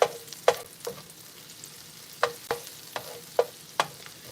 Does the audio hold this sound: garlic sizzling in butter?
yes